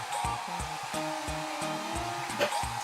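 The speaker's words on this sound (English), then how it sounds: "Now let's take a dryer, kitty." A battery-powered toy hair dryer whirs steadily throughout, with a high electric motor whine broken by a repeating pattern of electronic beeping tones, close and loud with no talking.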